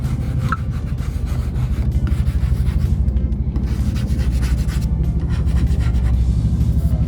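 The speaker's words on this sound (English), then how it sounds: "squeegee it up to ensure the blackout adheres to the tail light" A squeegee rubs matte black blackout film onto a 2008-2014 Challenger tail light, making a steady, close scraping and rubbing noise that runs unbroken for the whole stretch.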